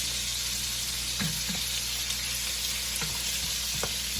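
Sausages fry in a pan and get turned now and then, a steady hiss of sizzling fat punctuated by a few short knocks and scrapes as they are moved.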